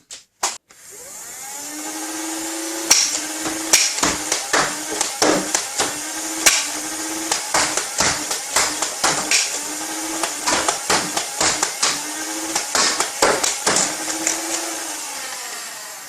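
An Adventure Force Spectrum flywheel foam dart blaster spins up with a steady whirring hum and fires repeatedly, sharp close thwacks and clicks landing in quick irregular bursts as darts hit a target.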